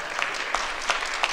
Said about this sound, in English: big clap, go ahead